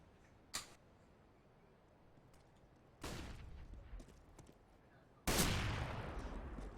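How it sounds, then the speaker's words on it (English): Gunfire in a CS:GO gun battle comes as three sharp bursts, a short crack and then two louder volleys that trail off, over quiet background noise. "But he comes out the better in the gun battle with Indie Meister."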